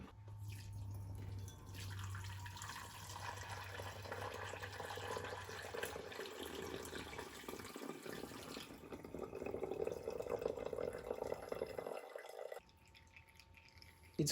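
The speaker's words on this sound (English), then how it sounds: "now it's time, so let's drain some soy sauce" Homemade dashi soy sauce draining and dripping steadily into a container, a continuous close trickle that runs for several seconds before cutting off near the end.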